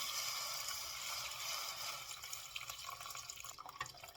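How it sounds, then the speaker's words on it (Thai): Water is poured into a pot of chicken curry with chayote, a faint, steady trickling and splashing that settles into softer drips toward the end. "เติมน้ำลงไปจ้ะ เติมน้ำแกงลงไป"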